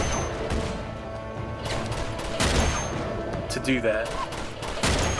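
Gunfire from a weapon in Uncharted 2, a dense clatter of shots and crashes layered over game noise, with someone talking briefly over it.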